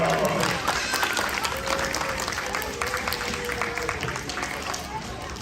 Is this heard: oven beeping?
no